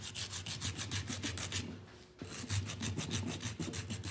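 Wooden ring rubbed back and forth on sandpaper glued flat to a board, a quiet close rasping in quick regular strokes, pausing briefly before resuming at the same rhythm.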